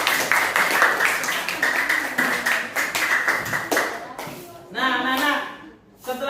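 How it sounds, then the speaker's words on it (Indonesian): Classroom clapping for a student, a burst of hand claps from many pupils that thins out and stops, followed by a voice talking near the end. "tepuk tangan buat Nabilatri"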